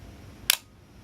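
An Olympus XA compact film camera's shutter fires once: a single sharp, quick click, close and crisp against near silence.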